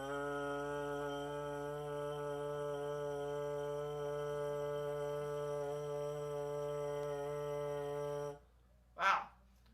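A steady, buzzy brass tone from a euphonium mouthpiece held unbroken for about eight seconds, rich in overtones, then cut off, followed by a brief short noise burst.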